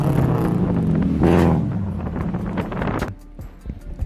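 A modified 2014 Toyota Corolla Altis with uneven headers and a custom catback exhaust gives a deep, loud rumble that swells in a short rev burst, then settles back under gusty wind noise.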